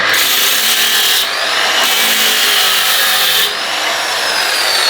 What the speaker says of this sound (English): You can see I'm sanding off the glass.